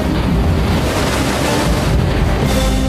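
Small sea waves wash and churn continuously near the microphone, loud and close, mixed with gusty wind buffeting and no voices.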